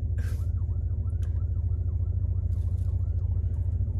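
A wailing siren rises and falls rapidly and repeatedly, heard at a distance over a loud, steady low engine rumble.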